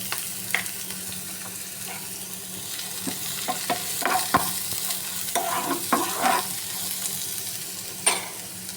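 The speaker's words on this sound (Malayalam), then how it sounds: "ചൂടായ എണ്ണയിലേക്ക് കറിവേപ്പില, അരിഞ്ഞ് വെച്ചിരിക്കുന്ന സവാള," Curry leaves and chopped onion fry in hot oil in a pan, giving a steady close sizzle broken by scattered crackles and stirring scrapes, with no talking.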